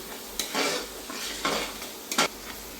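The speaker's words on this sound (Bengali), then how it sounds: "এখন একটু নেড়ে চেড়ে মশলাটা কষিয়ে নেব" A spoon scrapes and stirs chili powder masala frying in a pan, three or four scraping strokes over a quiet sizzle, close and without speech.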